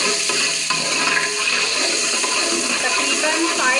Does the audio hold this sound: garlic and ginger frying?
yes